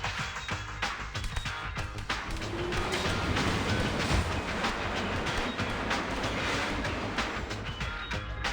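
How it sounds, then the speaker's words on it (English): A train rolls along in Teenage Mutant Ninja Turtles: Mutants Unleashed, a steady loud rumble with rhythmic clickety-clack of wheels and metallic rattles throughout, no voices. "stepped onto the train."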